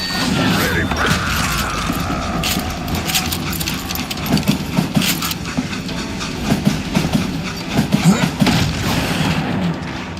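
A train in the Western shooter Call of Juarez: Gunslinger gives a loud, steady rumbling clatter with repeated mechanical clanks throughout, heard up close with no talking.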